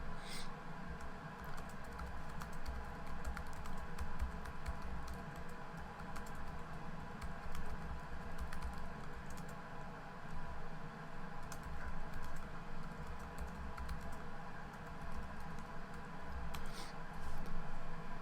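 Typing on a computer keyboard while writing a post in a WordPress editor, heard as soft, steady key clicks in a continuous stream over a low background hum, fairly quiet, with no talking.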